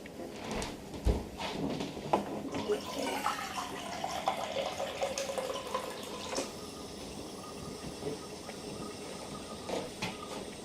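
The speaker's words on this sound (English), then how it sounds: "water, not from the tap, from the water cooler" Water running from a water cooler into a cup in a home kitchen, a steady splashing stream of fairly low level with a faint clunk near the start and soft handling noises throughout.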